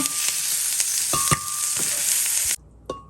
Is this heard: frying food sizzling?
yes